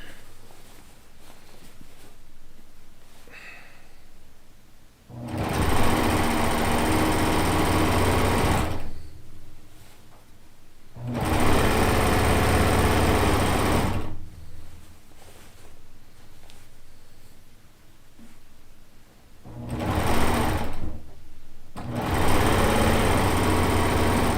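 Longarm quilting machine running freehand free-motion stitching in a quilting studio, a steady mechanical whir in three long bursts separated by short quiet pauses, loud and close.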